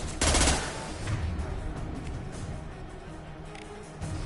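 Gunfire crackles in the Mass Effect 2 Legendary Edition video game, a loud opening burst followed by sustained rapid shots and battle noise, with a fresh burst near the end.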